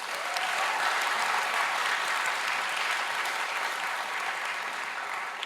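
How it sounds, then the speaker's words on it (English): Steady, dense applause from a large crowd at the opening ceremony of a student hackathon, continuous and fairly loud for several seconds without talk. "And one last round of applause for our sponsors."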